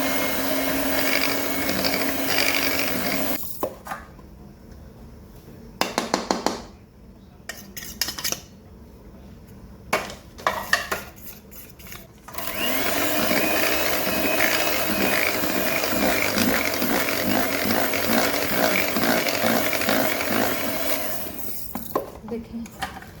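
An electric beater whirs loudly as it beats butter for cake rusk, running in long continuous stretches broken by short pauses and clattering, rattling bursts against the bowl.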